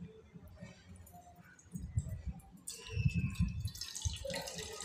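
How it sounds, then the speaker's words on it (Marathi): Water drips and trickles as salted, turmeric-coated raw mango pieces for pickle are drained, soft irregular splashes that grow busier toward the end, with no speech. "आपण ह्याचं पाणी सगळं एकदम नितळून घ्यायचं,"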